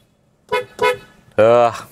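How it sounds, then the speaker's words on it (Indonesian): A Hyundai Stargazer's upgraded car horn sounds from inside the cabin with a window open: two short toots, then one longer, louder blast, loud and close. "Coba kita klakson, kita dengerin dari dalam kabin."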